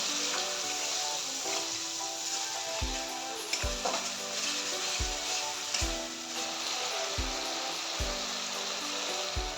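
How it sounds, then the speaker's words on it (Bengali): A spice paste of ground ginger, coriander, cumin and chili with salt and turmeric fries in oil for a rohu fish curry, giving a loud, steady close sizzle broken by regular knocks and scrapes of stirring about every second. "আমি এখন মশলাটাকে ভালো করে কষিয়ে নেব।"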